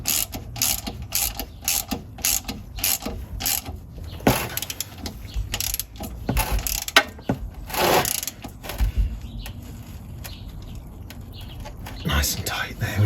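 A hand ratchet tightening a plug on a classic Fiat 500 gearbox, a close series of quick clicking bursts in uneven runs with short pauses between them, and someone speaking briefly at one point.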